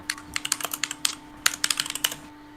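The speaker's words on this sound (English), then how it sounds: "Don't mind me my loud typing, by the way." Loud computer keyboard typing, close and crisp, with rapid uneven bursts of clacking keystrokes and a brief pause midway before another flurry, alone and without talking.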